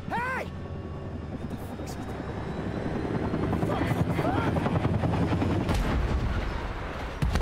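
Helicopter rotor chopping from the video game Still Wakes the Deep, a loud, steady thrumming that builds over several seconds amid rumbling in-game noise, with muffled voices underneath.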